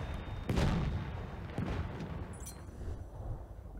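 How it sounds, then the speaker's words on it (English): A grenade blast in a World War I multiplayer shooter at Fort de Vaux: a sharp broadband boom bursts out, followed by a second thud and rolling, distant battle rumble with scattered crackle. "Oh, that's grenade."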